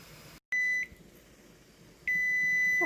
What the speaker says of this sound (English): Okay, our timer's going off.